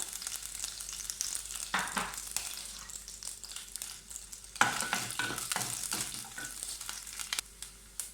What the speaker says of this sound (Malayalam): ആദ്യം തേങ്ങ വറുത്തെടുക്കാം.